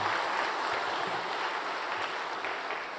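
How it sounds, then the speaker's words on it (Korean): A church congregation at a revival service applauds warmly, a dense, even wash of many hands clapping that fades slightly toward the end. "한번 뜨거운 박수로 격려하겠습니다"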